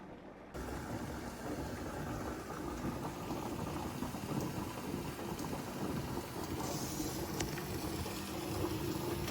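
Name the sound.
steam venting from a pressure canner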